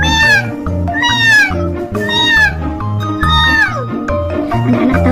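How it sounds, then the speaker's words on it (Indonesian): A cat sound effect in a children's story gives a run of loud, close meows, several drawn-out cries in quick succession with short gaps between them. "Nah, tiba-tiba seekor kucing datang."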